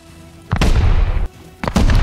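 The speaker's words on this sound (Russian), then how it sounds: "Они взрывают верстак, рили." Explosives blowing up a workbench in the Rust video game: two loud, close booming blasts with crackling debris, the first lasting about three-quarters of a second, the second following shortly after.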